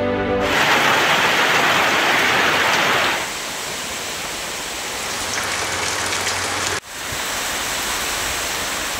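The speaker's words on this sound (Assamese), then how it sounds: "টোপাল টোপাল বৰষুণ।" Heavy rain pours down steadily after a dry spell over farm fields, a loud dense hiss that carries through the clip without a break and dips briefly near the end.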